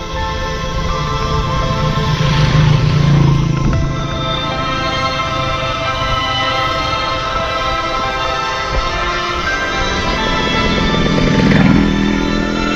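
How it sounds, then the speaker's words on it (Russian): A motorcycle passes along a pitch-dark road at night, its buzzing engine loud and steady as it approaches and goes by, with a swell near the start and another toward the end. "О, мотоцикл."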